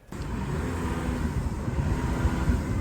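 Diesel car engine floored to full throttle outdoors, a steady loud low rumble that holds and builds slightly over nearly three seconds, with no talking.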